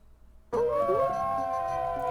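A wolf howls in the Quest for Glory 4 computer game, a loud sustained wavering cry that starts abruptly after a short quiet lead-in and holds steady to the end, with no talk.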